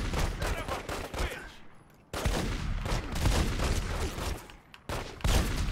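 Gunfire in The Godfather video game, rapid bursts of shots in several volleys with brief pauses between them, loud and close.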